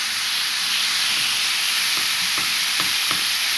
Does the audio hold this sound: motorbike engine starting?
no